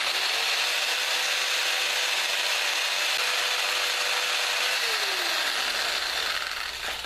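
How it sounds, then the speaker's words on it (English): A power drill spinning a wooden bowl with 20-grit sandpaper whines steadily at high speed for several seconds, its pitch dipping briefly near the end as it is loaded. "Take my drill."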